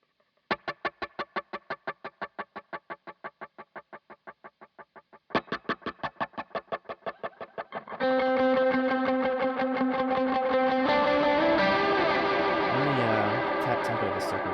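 Electric guitar through a Mod Pulse effects pedal on a Kenyon Reed preset, rapid pulsing repeated stabs that swell into a dense, sustained, modulated wash, close and fairly quiet, with no talk.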